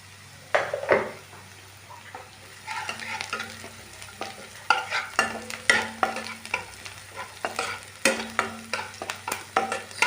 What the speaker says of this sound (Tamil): லைட்டாக மஞ்சத்தூள் ஆட் பண்ணிவிட்டு நம்ம மிக்ஸ் பண்ணிக்கலாம்